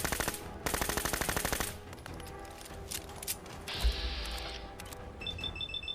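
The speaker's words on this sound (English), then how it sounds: "We got a Gatling laser, I guess?" A Gatling laser fires in rapid buzzing bursts in the video game Fallout 4, two loud strafes at the start followed by quieter combat noise, a whirring hum and electronic tones, no talk.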